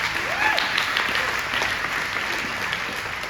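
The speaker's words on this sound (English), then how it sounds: "Give yourselves a big round of applause for being here today." A crowd at a town hall claps in a sustained, even round of applause with scattered cheers and whoops rising through it, fairly loud and close.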